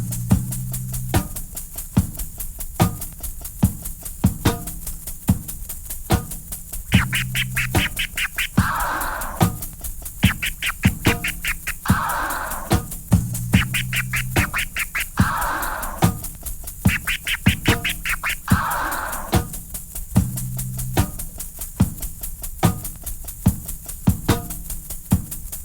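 Chirp scratching on a DJ turntable, the crossfader snapping shut after each stroke, repeated in short rhythmic bursts over a steady looping beat, close and fairly loud.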